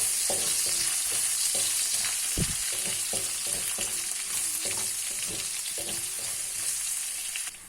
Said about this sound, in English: we're going to add our fresh ginger and garlic. Let that fry for a couple of seconds.